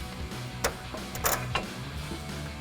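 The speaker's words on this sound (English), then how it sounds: "So we'll go ahead and slide our bolt in on the other side of the bracket here." A steel bolt slides through an aluminum side step bar bracket on a 2021-2023 Ford Bronco, giving a few faint metallic clicks and a brief scrape close by over a low steady hum.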